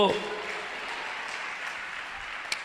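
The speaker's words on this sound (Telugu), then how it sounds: "చప్పట్లు కొట్టు" A church congregation claps together at a Christian sermon, a steady, soft wash of many hands heard at a distance.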